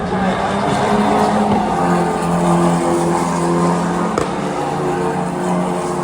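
F1 Academy race cars on the Miami circuit during qualifying: a steady, loud engine drone with layered tonal whine holding for several seconds, like cars lapping near the track, with no break.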